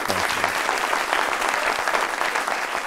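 Enthusiastic applause from a TV talk show studio audience fills the whole moment, dense and continuous clapping.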